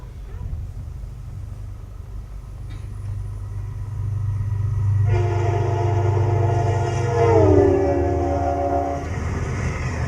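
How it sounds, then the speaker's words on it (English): A train passes by with a low, sustained rumble, then its horn sounds loudly and slides downward in pitch as it goes past, with no talk. "As the train passes by you,"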